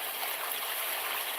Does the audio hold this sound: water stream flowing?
yes